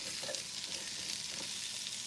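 Green beans sizzle in a pan with a soft, steady crackling frying hiss, continuous and fairly quiet throughout.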